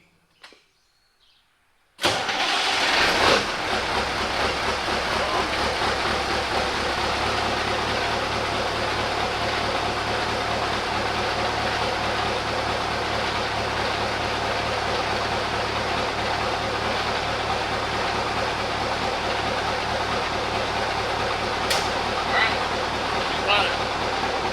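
A pre-emission Mack CL713 truck engine fires up after a brief quiet moment and settles into a loud, steady diesel idle that continues throughout, heard up close inside a shop.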